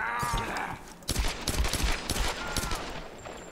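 A rapid burst of synthetic-sounding gunfire in the video game Tomb Raider, several sharp shots in quick succession, loud and close over a dense game soundtrack.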